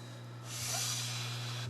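A captive rhino viper with a respiratory illness gives a single soft snorting hiss, a brief breathy exhale rising out of quiet room hum.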